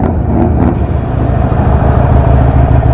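A 2016 Harley-Davidson Sportster Iron 883 idles up close with a loud, steady low rumble that pulses unevenly, nearly alone with no talk.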